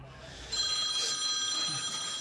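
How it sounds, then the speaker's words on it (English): A telephone bell rings steadily during a tense bank-robbery siege, a continuous ringing tone that starts after a brief pause and carries on without letup. "That phone just rang and rang and rang and rang."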